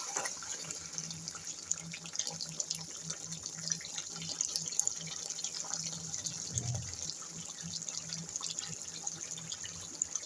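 Water pours steadily into a pot for chicken curry gravy, giving a continuous close trickling and splashing with a brief heavier gush partway through, without speech.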